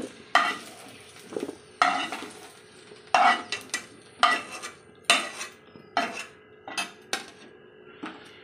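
Fried fish roe being lifted out of a pan of mustard oil with okra and potato, heard as a series of distinct metal utensil scrapes and clinks against the pan over a faint sizzle, close and without speech.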